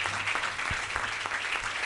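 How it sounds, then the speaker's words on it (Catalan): Applause in the plenary hall of a municipal council chamber, a brief burst of fairly faint, even clapping from the audience, with no voices over it. "rep els aplaudiments de la sala de plens"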